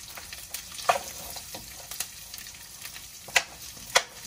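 Onion sautés in a hot pan with a soft, continuous sizzle, broken by a few sharp scrapes and clinks of a utensil stirring close by, with no one speaking.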